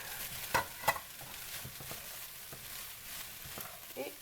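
Egg fried rice (Cantonese rice with omelette) being stirred in a frying pan, with a low continuous sizzle and a few sharp clicks and scrapes of the utensil against the pan, close and quiet.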